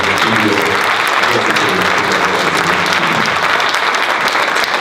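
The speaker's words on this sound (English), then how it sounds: "let's put our hands together" Steady, dense applause from a large audience, loud and sustained throughout with no gaps, crowd clapping filling the whole stretch.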